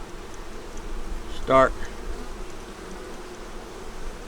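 Honey bees buzzing at a hive kept through cold weather: a brief, close buzz swells for about a second near the middle, over a quiet background.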